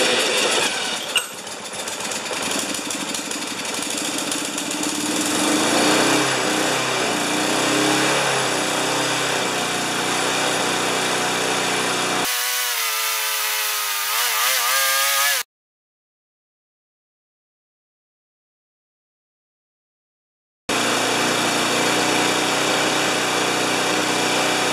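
A Tecumseh 6.5HP VLV lawn mower engine runs loud and steady close by, its note shifting before it cuts out into several seconds of silence, then it roars back to a continuous run.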